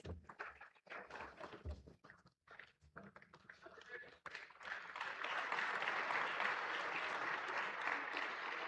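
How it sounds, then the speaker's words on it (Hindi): Faint, distant applause at a railway awards ceremony greets the General Manager and Principal Chief Electrical Engineer, scattered claps at first swelling into steady sustained clapping in the second half. "कृपया जोरदार तालियों से स्वागत कीजिए जनरल मैनेजर और प्रिंसिपल चीफ इलेक्ट्रिकल इंजीनियर महोदय का।"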